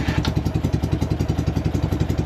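A 1959 BMW R60/2 motorcycle engine chugs loud and close right after a kick start, with a rapid even thumping beat and some clatter.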